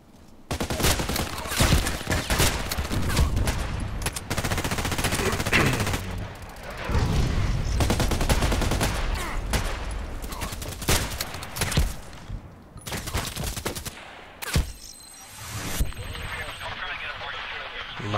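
Sniper rifle gunfire in a video game: repeated loud shots and bursts over continuous game noise, with a commentator talking at times across the stretch.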